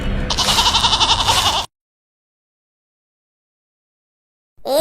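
Cartoon goats bleat loudly in a quick wavering run for over a second. Silence follows, then another bleat starts near the end.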